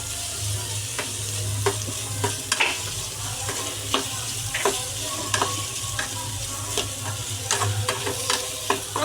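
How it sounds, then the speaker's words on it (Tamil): Onion sautéed over a slow flame in a pan, a constant close sizzle with regular scraping strokes of a spatula stirring through it. "ஒரு பெரிய சைஸ் வெங்காயத்தை போட்டு நல்லா வதக்கணும்."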